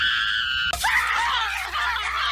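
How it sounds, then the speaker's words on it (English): A crowd of people bursts into loud, sustained screaming at once, a sudden wall of shrieking voices that carries on for a couple of seconds without pause. "whenever anyone says the secret word, scream real loud!"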